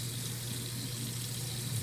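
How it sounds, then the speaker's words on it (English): Tap water runs steadily over a brass instrument being rinsed in a sink, a soft, continuous splashing wash with no voices. "Okay, rinse it off."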